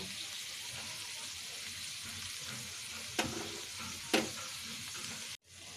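Bitter gourd and dried fish fry in oil with a steady, even sizzle, broken by two sharp clinks of a utensil against the pan before the sound cuts briefly near the end.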